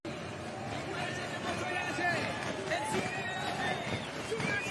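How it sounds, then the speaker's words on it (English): A large roadside crowd lines the run-in to a cycling race finish, a continuous busy hubbub of chatter and shouts close by, with a voice talking over it. "Such a massive crowd lining the actual run-in here to the finish"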